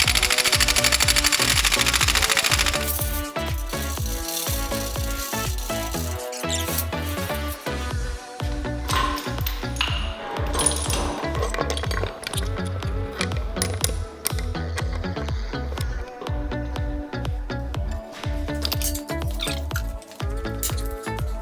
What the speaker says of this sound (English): And now we unbolt these nuts and remove the transmission.